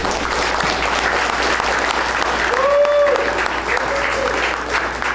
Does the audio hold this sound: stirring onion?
no